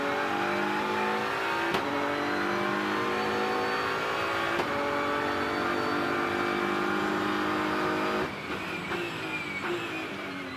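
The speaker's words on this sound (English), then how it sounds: "Lovely sounds of the 3-liter straight 6 twin turbo BMW M4 GT3." BMW M4 GT3 race car with a 3-liter straight-six twin-turbo engine at the Indianapolis 8 Hour, loud and continuous with rising revs, brief gear-change breaks near 2 and 5 seconds and a lift-off late on.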